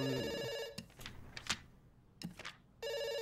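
A ringing telephone sounds in the video game Dr. Langeskov, The Tiger, and The Terribly Cursed Emerald: loud electronic bell bursts at the start and end, with faint clattering footsteps between them.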